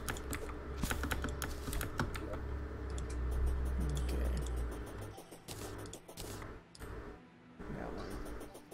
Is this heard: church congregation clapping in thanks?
no